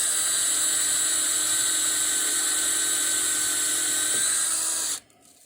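A power drill fitted with a wood, PVC and metal bit bores into a shovel shaft, giving a steady high-pitched whine close up for about five seconds before cutting off abruptly.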